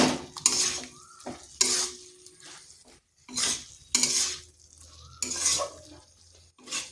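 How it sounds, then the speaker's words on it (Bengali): Ivy gourd and potato curry stirred in a pan, with repeated bursts of a spoon scraping and clattering against the metal between short quiet gaps, close up under a faint sizzle. "এটা 2 থেকে 3 মিনিট এইভাবে একটু নেড়ে নিচ্ছি।"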